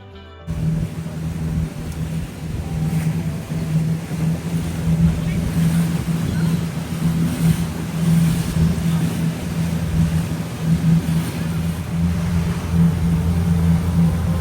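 Motorboat engine droning steadily throughout a long ride across a lake, with a constant low hum, water rush and wind buffeting; no speech evident.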